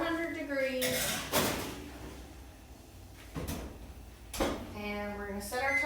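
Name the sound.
putting focaccia into the oven, oven door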